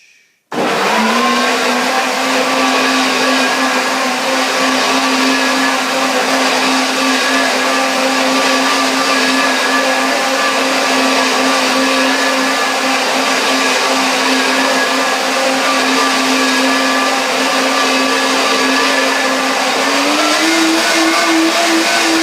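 A blender motor whirs loudly and steadily close by, a sustained high-pitched drone that shifts up in pitch near the end.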